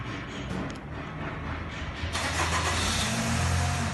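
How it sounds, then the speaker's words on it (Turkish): A 2012 Chevrolet Captiva turning over on remote start, a steady idle hum that swells into a louder, brighter engine roar about halfway through, close by with no talk. "Arabamı uzaktan çalıştıracağım şu anda."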